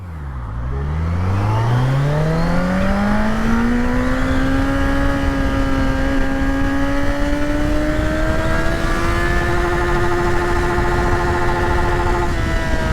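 Kawasaki Z900 motorcycle pulling hard in first gear, its engine note climbing steadily from a low rumble to a loud high-pitched scream and holding near the top, close and unbroken with no talk.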